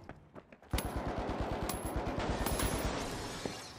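Rapid automatic gunfire in the shooter The Finals opens after a short lull and continues as dense, loud bursts of shots over about three seconds, with sharp metallic cracks mixed in.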